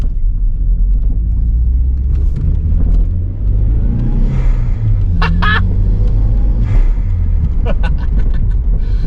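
A Volvo 940 Turbo drives along a straight road, its engine droning with a steady low rumble and road noise heard from inside the cabin, while brief faint chirps break through partway.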